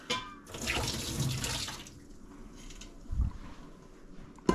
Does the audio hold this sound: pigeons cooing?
no